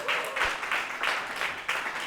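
A church youth-service congregation gives a short, light round of applause, soft claps in loose rhythmic bursts heard from a little distance.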